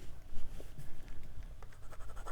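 A Majohn V1 fountain pen with a steel fine nib writes on Clairefontaine 90 gsm paper, giving soft, close scratchy strokes in irregular bursts over a low background hum.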